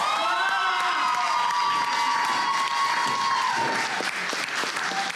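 A crowd erupts in applause and cheering for the champions of a Ukrainian televised team competition, loud sustained clapping mixed with high shouts and whoops that stays dense and near throughout.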